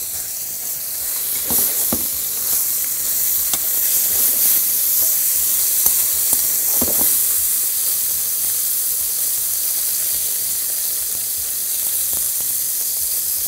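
Beef pieces fry in hot oil in a pan, a steady bright sizzle and hiss with a few sharp crackles and pops, close and continuous with no voices.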